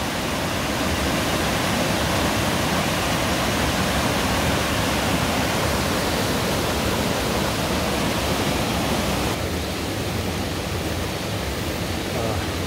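Steady, loud rushing of a waterfall in Seoraksan fills the whole stretch, a broad continuous roar without pauses or voices.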